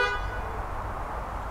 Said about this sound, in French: je peux mettre un coup de klaxon.